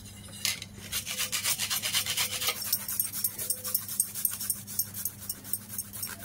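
Ginger and garlic rasped on a hand grater while cooking dried lote fish with taro stolons, a close, steady run of short scraping strokes in quick rhythm, with no talk over it.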